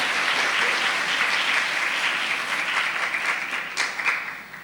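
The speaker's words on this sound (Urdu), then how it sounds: "ایمانویل کے لیے تالیاں لگائیں" A church congregation claps steadily throughout, dense broadband applause filling the space, tapering off slightly near the end with no voices over it.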